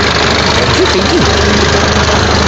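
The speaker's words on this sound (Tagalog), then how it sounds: "Papaandaran ako ng motor ko" A motorcycle engine runs at a loud, steady idle close by, its even rumble continuous throughout, with a brief voice heard faintly over it.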